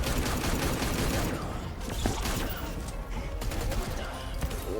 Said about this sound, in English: Oh, shots again. He has the blue bullets on again.